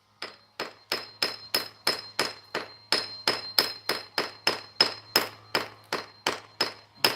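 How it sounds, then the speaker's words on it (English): A hammer strikes a wall again and again in a steady, rapid rhythm, about twenty loud ringing blows with a metallic ping on each hit, close and alone. "I'm going to just give the old wall a little hammer-a-roo."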